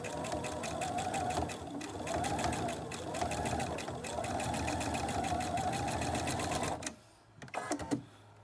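A home sewing machine top stitches around the chin piece of a fabric face mask in one long, even, rapid run close by, then stops, followed by a few quiet handling clicks.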